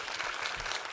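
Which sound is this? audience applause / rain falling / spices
audience applause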